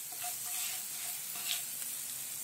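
Whole spices sizzling in a spoonful of oil in a pan over low heat, a soft steady hiss with faint crackles, brief and quiet.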